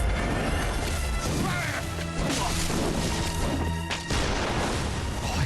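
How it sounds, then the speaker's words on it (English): An enemy's gunshot cracks out during a boss fight in the video game Bloodborne, a brief loud blast set against dense, clashing combat noise with no talking. "his gunshot sounds so good"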